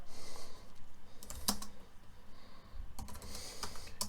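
A computer keyboard is typed on while entering a terminal command to change into a project folder, giving quick bursts of close, crisp key clicks over faint background hum, with a few sharper taps standing out.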